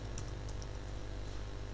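Faint keystrokes on a computer keyboard as a Linux terminal command is entered, a few scattered soft clicks over steady low background noise.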